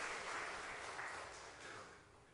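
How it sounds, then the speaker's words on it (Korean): A church congregation claps together indoors in a steady, fairly soft burst of applause that holds for a couple of seconds and tapers slightly at the end, with no voices over it. "박수 합시다."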